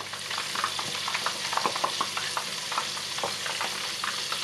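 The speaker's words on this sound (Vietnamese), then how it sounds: "Mình sẽ cho dầu vào chảo và chiên ngập dầu luôn." Lemongrass pork sausage deep-frying in oil in a pan, a steady close sizzle with scattered pops and crackles running throughout, no voices.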